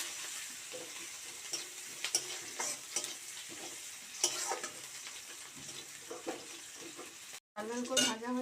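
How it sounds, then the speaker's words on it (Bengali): Whole cumin seeds fry in hot oil in a home kitchen, giving a steady close crackle and sizzle with occasional utensil clinks, then a short break and a louder burst near the end. "5 ফোড়নটা শেষ হয়ে গেছে, তার জন্য জিরে দিয়ে দিলাম,"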